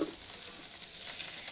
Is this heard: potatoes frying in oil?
yes